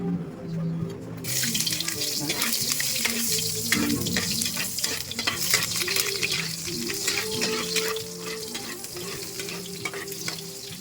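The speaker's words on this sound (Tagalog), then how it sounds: "At kapag mainit na yung ating mantika, ay ilalagay na natin yung luya." Ginger is dropped into hot oil and breaks into a loud, dense, continuous hiss that sounds almost like running water, with stirring noises going on underneath.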